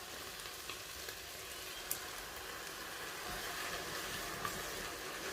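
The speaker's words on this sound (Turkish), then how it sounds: "Şu anda kaynıyor." A low, steady bubbling hiss of tomato sauce simmering in a pan for lasagne, fairly quiet, with a couple of faint clicks and no talking.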